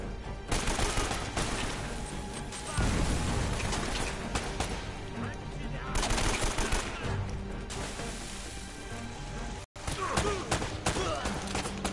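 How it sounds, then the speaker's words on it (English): Gunfire in the video game Uncharted: Drake's Fortune, sustained bursts of rapid shots in loud clusters with brief gaps, with a player's voice talking over the action. "Just running at him and shooting."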